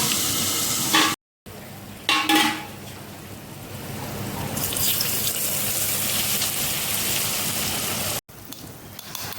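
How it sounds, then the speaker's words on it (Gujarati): Hot oil poured over the spice mix for a raw mango pickle, with red chilies, bursts into loud, sustained sizzling and crackling that fills the whole stretch, broken only by two brief gaps. "તેલ ગરમ થઈ ગયું છે ને આપણે બધી વસ્તુ લીધી હતી એમાં નાખી દીધું છે તેલ"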